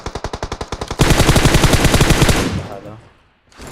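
Automatic gunfire in the video game PUBG, a rapid loud burst of evenly spaced shots that swells into a dense continuous volley, then fades into a short ringing tail and silence.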